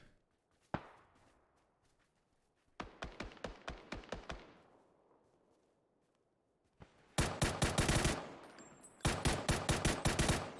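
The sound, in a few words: M4 rifle gunfire in the PUBG video game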